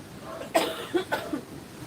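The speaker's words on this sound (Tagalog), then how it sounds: "Ako, inuubo ako." A person coughing in a few short, separate bursts, close and fairly quiet, with faint background hiss between them.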